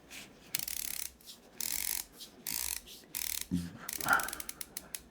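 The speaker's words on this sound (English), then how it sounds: "I'm going to let you know how many clicks you get total of this grinder" A Zpresso ZP6 hand coffee grinder is turned through its adjustment settings. It gives close, crisp ratcheting clicks in short bursts with brief gaps between them.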